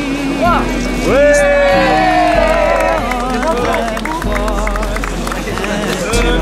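At the Saint Clément Christmas market, a crowd cheers loudly after a spoken countdown. Shouting, whooping voices ride over a steady hubbub, with clapping mixed in.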